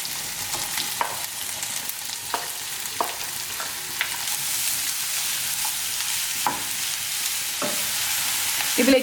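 Four large onions, sliced thin and long, sauté in a pan for a Kerala-style country chicken curry, giving a steady close sizzle with occasional scraping stirs.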